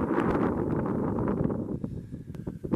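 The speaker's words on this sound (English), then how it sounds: "it is pretty darn windy over here" Strong wind gusts buffet a microphone on a hiking trail, a loud rushing roar that eases toward the end with a few light rustles and knocks.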